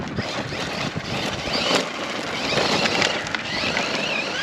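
An RC Polaris RZR off-road car running at 75% throttle gives a continuous whirring motor whine over a gritty, rushing rumble of its wheels. The sound holds steady at moderate distance, with no voices.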